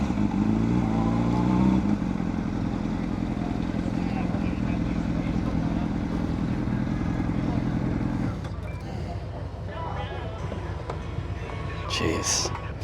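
A group of motorcycles rumbles past on a road, loud and close at first with revving, then fading into a lighter clattering engine sound, and a voice speaks over it.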